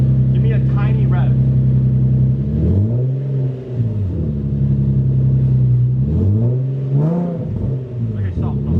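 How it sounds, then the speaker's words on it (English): A car engine fires for its first start and revs in repeated rising and falling bursts, loud and close, with people talking over it. "First start. Give me a tiny rev."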